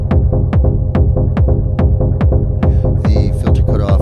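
A lead synth in Ableton has its filter cutoff swept, playing as loud, pulsing repeated notes over a throbbing bass, with the tone opening up and brightening toward the end.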